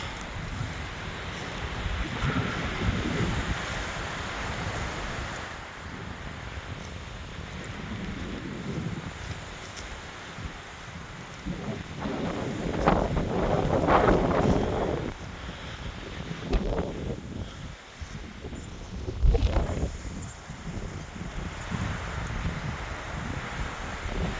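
Wind buffets the microphone on the coast in uneven gusts, surging louder several times before settling back to a steady outdoor rush. No one speaks.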